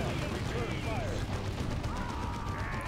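A grenade blast against a building in the Dawn of War 2 battle game comes as rumbling explosive gunfire-like bursts, dense and steady, with a voice talking over the din.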